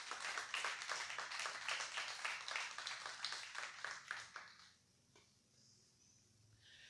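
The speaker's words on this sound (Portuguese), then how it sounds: "Você pode aplaudir o Senhor bem forte" Loud sustained applause from a church congregation, dense rhythmic clapping that fills the room for about four and a half seconds before cutting off to quiet room tone.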